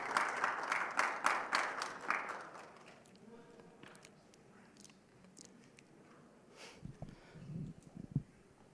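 A round of applause at a youth entrepreneurship and trade forum session, clapping strongest at first and then thinning to scattered claps and shuffling, fairly faint in a large room.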